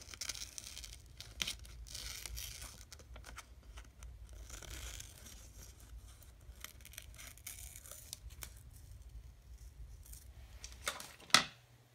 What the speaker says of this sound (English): you'll just use your scissors to cut all the extra paper off